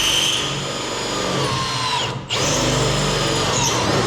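A power drill bores through a body panel on an International Scout truck, a loud, close, sustained whine that briefly cuts out and then resumes at full speed.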